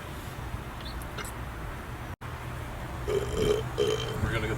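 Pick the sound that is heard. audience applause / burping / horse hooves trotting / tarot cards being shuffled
burping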